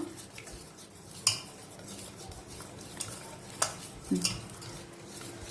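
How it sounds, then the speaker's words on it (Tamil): A utensil stirs and beats broken eggs in a bowl for sweet paniyaram, soft continuous scraping with a few sharper clinks against the bowl, close and fairly quiet with no talk. "இதை நல்லா மிக்ஸ் பண்ணி விட்டுக்கலாம்."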